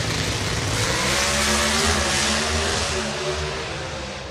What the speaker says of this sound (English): Fernando put the clutch back in